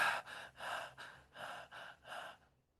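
A voice imitates Cheyne-Stokes breathing: five rhythmic breaths, close and clear, swelling and fading in a waxing-waning pattern before trailing off into silence.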